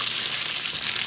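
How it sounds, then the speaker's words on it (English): Carnitas and poblano peppers sizzle steadily in a hot pan, a close, even hiss of frying with no talk. "I am frying up the carnitas and the poblano peppers,"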